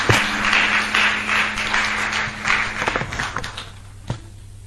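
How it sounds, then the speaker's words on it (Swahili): Audience applause at a summit in Dodoma, a full wash of clapping that stays strong for about three seconds, then thins to scattered claps and fades, with one last louder clap near the end. "Makofi hayatoshi, tumpige makofi zaidi."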